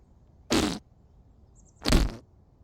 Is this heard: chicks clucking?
no